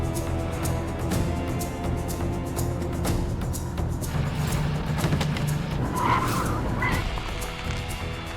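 A car drives off with tires skidding and squealing, loud engine roar over continuous road noise with sharp screeching bursts in the second half.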